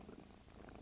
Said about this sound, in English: she's purring very loudly right next to the microphone